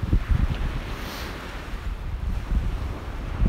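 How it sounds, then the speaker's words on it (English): Wind blows hard across a beach, roaring steadily into the microphone as a broad, rushing noise that swells and settles for a few seconds with no voices. "Oh, here comes the wind."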